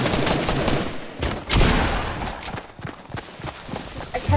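Rapid gunfire rings out in an online survival shooter, with repeated sharp cracks at an uneven rhythm, some bursts close and loud, others lighter, layered over busy game noise.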